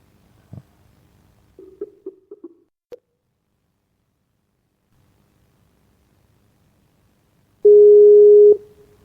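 A phone line gives a loud, steady busy tone after a dropped call, coming in abruptly and lasting about a second, preceded by a few faint clicks and short blips on an otherwise silent line.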